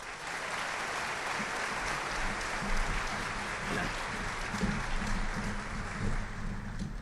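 Loud, steady audience applause fills a school leadership breakfast hall after a choir performance of the national anthem, a dense unbroken clatter of many hands that holds for the whole stretch.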